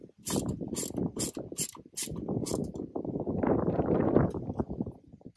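A ratchet wrench tightens car bolts in an X pattern, giving close, rapid clicking bursts in quick runs, followed by a longer stretch of grinding mechanical turning.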